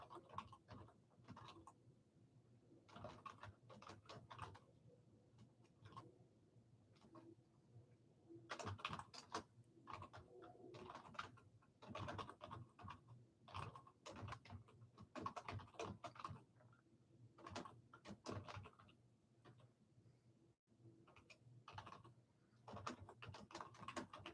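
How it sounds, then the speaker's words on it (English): Faint, continuous typing on a computer keyboard with uneven bursts of quick key clicks and short pauses, heard alone in a quiet room. "I'll type it in here."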